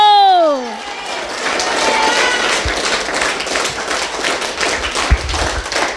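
A church congregation breaks into applause after a sermon, a dense wash of clapping building after a short tone, with a few louder claps near the end.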